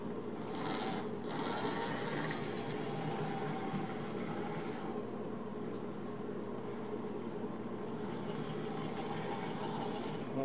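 A model steam locomotive creeps along with its valve gear running, giving a faint, continuous mechanical rubbing and clicking whir that dips briefly and returns.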